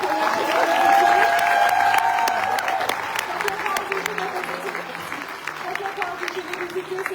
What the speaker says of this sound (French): Je vous demanderai juste de les applaudir bien fort et de les remercier pour leur